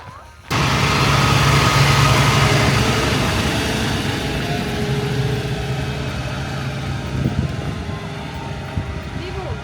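A tractor engine starts up and idles at Grenen near Skagen, Denmark: a low, steady rumble with a droning hum that kicks in abruptly and runs continuously, close and fairly loud, with faint talk over it.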